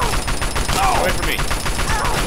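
Rapid gunfire in the Fallout 3 video game, a dense burst of cracking shots filling the whole moment, loud and close, with a voice faintly mixed in.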